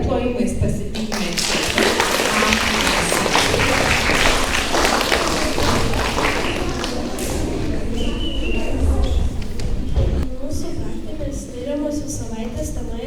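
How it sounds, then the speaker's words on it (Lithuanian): Dense clapping fills a school room as a primary class is welcomed, a sustained wash of hand claps that swells, then thins and tapers toward the end. "Ir plojimais pasitikime."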